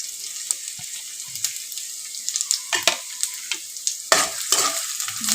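Garlic, dried chilies and cumin frying in hot oil give a soft sizzle under sharp, irregular clinks and scrapes of a utensil stirring the pan, close by and intermittent.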